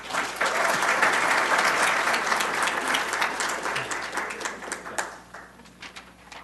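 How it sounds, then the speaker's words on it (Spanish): Loud, dense applause from an audience at a university lecture on economics and tax reform, sustained for several seconds and then thinning out toward the end. "démosle un fuerte aplauso"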